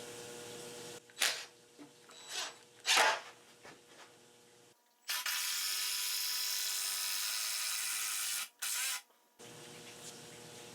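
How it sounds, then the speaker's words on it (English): A lag screw is driven into the wood of a cat tree, with a few short whirring bursts followed by a sustained, close, high-pitched driving run lasting several seconds. "Now I'll go ahead and put a second lag screw in."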